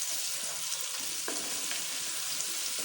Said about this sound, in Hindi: अब हम कुछ टाइम के लिए, थोड़ी देर के लिए बस लहसुन को पकाएंगे